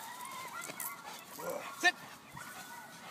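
A Rottweiler trained as a personal protection dog whines and yips in short bursts, close and fairly loud, while someone talks over it.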